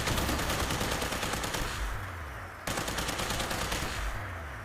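The Tesla rifle in Fallout 76 fires in a sustained, fast crackling stream of electric shots, stopping briefly and then resuming, loud and close with a buzzing, zapping texture and no voices.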